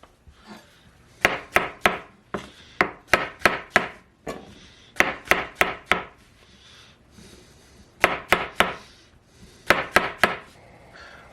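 A knife slices vegetables on a cutting board in quick bursts of sharp, close taps, grouped in runs of four or five with short pauses between.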